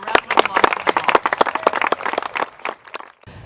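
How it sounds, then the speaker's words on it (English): An audience claps at a gym groundbreaking ceremony, a dense burst of individual hand claps close by that thins and fades out over a few seconds. "Let's have a round of applause for them"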